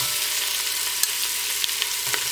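Onion, garlic, carrots and thyme frying in oil, a constant bright sizzle with a few faint taps of stirring, close and without talk.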